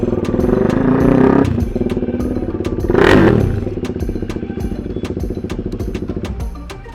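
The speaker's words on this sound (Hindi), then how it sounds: "भाई इतना लाउड साउंड आ रहा है कि मैं क्या ही बोलूँ। ये तुम्हारा डुअल बैरल एग्जॉस्ट भाई साहब।" A KTM RC motorcycle with a loud dual-barrel full-system exhaust revs hard nearby, a steady throbbing roar swelling to a sharp peak midway before settling back to a lumpy idle.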